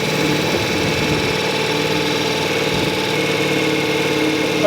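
A motorcycle engine running at a steady, even drone, loud and close with a constant hum and no voices.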